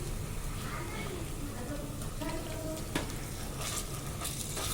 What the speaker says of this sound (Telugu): ఇప్పుడు దీన్ని కొంచెం ఫ్రై చేసుకుందాము.